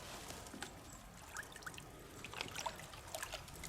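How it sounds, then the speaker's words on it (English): Pond water trickles and drips through a homemade emergency survival water filter hanging from a tree, a faint, uneven dribble with small splashes and no talk. "collect some water, pour it through and wait"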